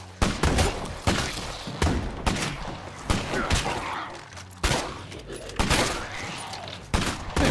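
Rifle fire in State of Decay 2, loud single shots spaced roughly a second apart, each a sharp crack with a short decaying tail, repeated steadily throughout.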